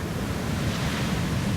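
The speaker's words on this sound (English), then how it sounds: "Like the wave crashed and it was like pulling back at the same time" Strong ocean waves crash and churn on a beach in Mexico, a steady broad roar of surf with wind noise buffeting the microphone throughout, with no voices.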